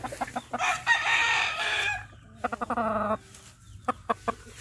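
A Pure Kelso gamefowl rooster clucking nearby in sharp, repeated bursts, with one drawn-out crowing call in between, loud and close.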